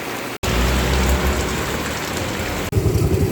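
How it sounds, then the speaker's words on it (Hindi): Rain pours down steadily on surfaces outdoors, a dense, loud, close hiss with two abrupt momentary cuts and no talking. "अब देखिए बारिश हो गई और यहीं फंस गए"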